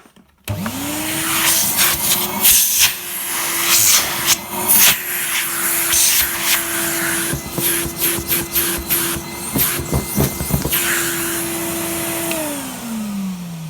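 A yellow 1994 Numatic Henry HVR200 vacuum cleaner switches on and its motor whines up to a loud, steady drone with shifting suction noises, then winds down near the end.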